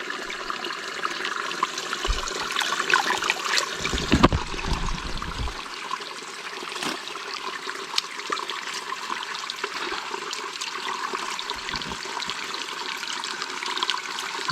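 Clear water streams and trickles steadily through a forest, a continuous close rushing flow with a few low thumps early on, with no talk over it.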